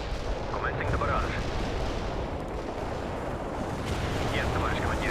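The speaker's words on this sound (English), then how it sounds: "Commencing the barrage." An artillery barrage in the World in Conflict video game, a dense, continuous rumble of booming shell fire and crackling blasts with faint radio-like chatter mixed in.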